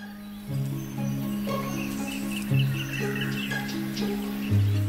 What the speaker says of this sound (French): Les oiseaux se querellent pour défendre leur territoire.